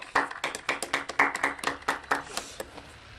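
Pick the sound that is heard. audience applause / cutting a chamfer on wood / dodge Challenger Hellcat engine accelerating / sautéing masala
audience applause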